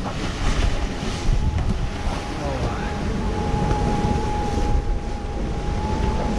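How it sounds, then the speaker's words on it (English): Sailing boat crossing to Inagua through a squall, with strong wind roaring and buffeting the microphone over heavy waves rushing and washing against the hull, steady and loud throughout. "This is a squall."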